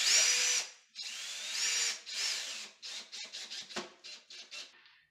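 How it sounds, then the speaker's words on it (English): A power drill drives a screw into a wooden wall stud behind drywall, with a long whining run followed by a series of short stuttering bursts, close and fairly quiet. "I just need to take a screw and just verify there is a stud there."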